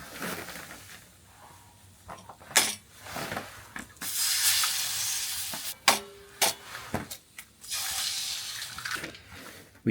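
Eggs fry on a Savotta Big Bad Stove outdoors, a shifting sizzle and spray-like hiss swelling in waves, punctuated by sharp clinks and knocks of a pan and utensils.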